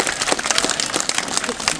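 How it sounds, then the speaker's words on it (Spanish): Applause from the crowd at a jaripeo bull-riding festival in Cantón Las Peñas, La Reina, Chalatenango, El Salvador, honoring a local festival queen; a dense, steady patter of many hands clapping, fairly loud and continuous throughout. "Aquí pido un fuerte aplauso para ella"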